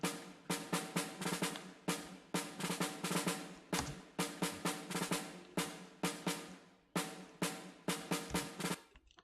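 Groove techno track built in Ableton Live with saturation and a limiter: a dense, bright, brassy chord stab pattern pulsing in a steady rhythm, with a brief drop in the middle and a fading tail on each hit.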